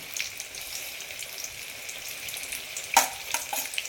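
Chicken kebab pieces fry in oil in a pan, a steady soft crackling sizzle close by, with a sharper spatter burst near the end.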